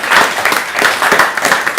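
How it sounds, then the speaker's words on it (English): Classmates in a classroom clap for a pupil, a dense burst of many hands applauding steadily for about two seconds with no speech over it. "Please clap for him."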